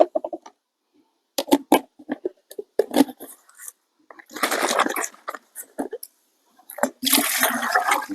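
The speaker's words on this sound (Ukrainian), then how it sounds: "Виливаємо в наш бак." Liquid splashes and gurgles in bursts as it is poured into a sprayer tank, with pauses between pours and a longer rushing pour near the end.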